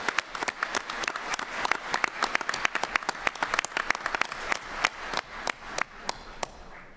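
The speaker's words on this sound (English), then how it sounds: "let's give a round of applause to our donors for these prizes" Audience applause for award donors at an annual business meeting and awards presentation, a sustained patter of many hands clapping with sharp individual claps standing out, steady and moderately loud for about seven seconds.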